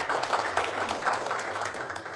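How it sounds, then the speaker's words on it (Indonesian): Studio audience applause on an Indonesian television talk show, greeting a popular puppeteer: a steady, moderately loud patter of many hands clapping throughout, with no clear voices over it. "Tepuk tangan untuk dalang paling populer di Republik."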